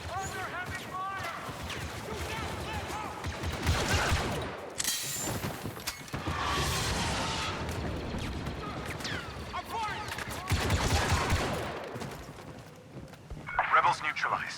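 Heavy gunfire in Star Wars Battlefront 2 rattles through a loud battle, dense bursts and blasts rolling almost without pause, with voices calling out over the fighting.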